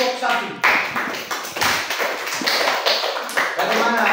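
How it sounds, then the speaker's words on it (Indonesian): A class claps for a student group in a teaching session, uneven clapping with tapping and thumps close by, irregular bursts mixed with voices talking over it. "Tepuk tangan untuk kelompok 1."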